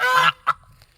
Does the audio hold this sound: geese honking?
yes